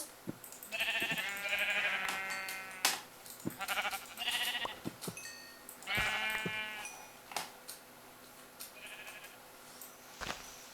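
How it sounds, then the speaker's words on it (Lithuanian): Several sheep bleating in the Minecraft video game, a series of short bleats in bursts spread across the span with gaps between them, clear and moderately loud against quiet background with occasional clicks. "Kaip matau dabar avį."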